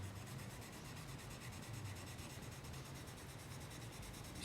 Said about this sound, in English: so now we'll move on to the 8000 grit for the final